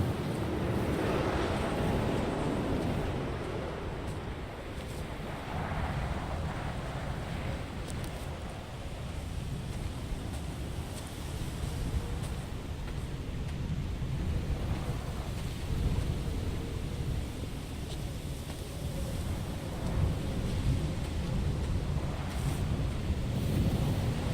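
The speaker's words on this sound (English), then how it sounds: "all the various sounds of the wind, along with the graphics and lighting, make it feel like a very real, very cold place" Wind and ocean surf on a lonely, cold island in the video game Dear Esther make a steady, full roar that swells and eases gently over its length, with no voices.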